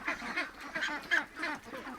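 Domestic ducks quack repeatedly in a close, lively chorus of overlapping nasal calls that rise and fall in quick bursts, with no talking.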